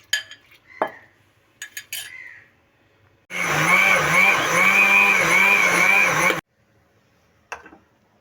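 A kitchen blender grinds soaked moong dal with a little water into paste, a loud steady whirring roar of about three seconds. Clinks of utensils and faint handling come before and after it.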